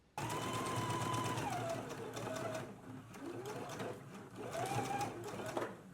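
A sewing machine basting ties onto a McCall's M8557 garment runs in a steady, continuous whir, slowing and speeding with brief pauses, close and fairly loud.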